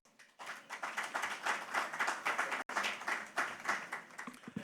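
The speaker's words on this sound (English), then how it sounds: "a round of applause to our chairman of the Enterprise Group" An audience claps for the chairman of the Enterprise Group at the Enterprise Life Nigeria Advantage Connect app launch, a lively round of applause that starts abruptly, swells and carries on to the end with a brief cut midway.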